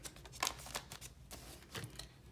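Paper cash bills are tucked into an envelope with soft, close papery rustles and flicks in an irregular rhythm, quiet and alone.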